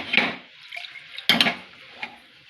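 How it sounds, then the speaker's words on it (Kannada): Water is poured over lentils in a kitchen bowl in a few separate splashy bursts, close and moderately loud, with short quiet pauses between pours. "ಬೇಳೆ ಮುಚ್ಕೊಳ್ಳೋವಷ್ಟು ನೀರು ಹಾಕ್ತಾಯಿದ್ದೀನಿ"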